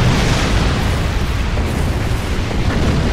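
A big purple plasma torpedo strikes a ship in the Star Trek Online video game, producing a loud, sustained rumbling explosion that roars steadily with no pause.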